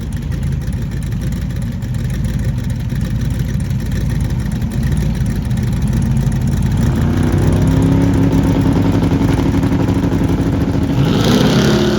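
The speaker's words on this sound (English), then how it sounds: "This car is big block, normally aspirated with the stacks coming out." Big block, naturally aspirated Camaro drag car with stacks at a Michigan Drag N Drive event, its engine rumbling loudly and steadily, then building in revs toward the end, no talking.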